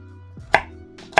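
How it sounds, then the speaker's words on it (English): Kitchen knife chopping an onion on a cutting board, two sharp crisp cuts about half a second apart over a faint steady background hum. "I'm going to cut onions."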